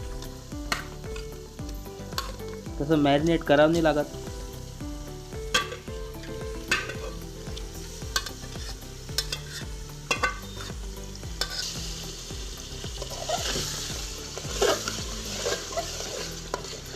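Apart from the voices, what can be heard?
marinated chicken added to frying onion masala, sizzling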